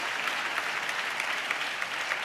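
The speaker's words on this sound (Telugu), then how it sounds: "చప్పట్లు కొడితే యేసయ్యకు స్తోత్రాలు చెప్దాం" A church congregation clapping steadily at a Telugu Christian sermon, an even wash of many hands at moderate level with no break across the whole stretch.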